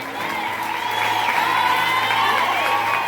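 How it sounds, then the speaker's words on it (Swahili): A church congregation claps and cheers for a visiting pastor, a sustained wash of applause with shouts and whoops that swells slightly and holds steady, with voices mixed through the crowd. "Tupigeni makofi kabisa. Tunaongeza ni makofi."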